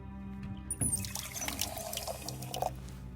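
Water pours from a distillation handle in the horror game True Fear: Forsaken Souls 2, a short liquid splash and trickle beginning abruptly near the start and running steadily and moderately loud, with no talk.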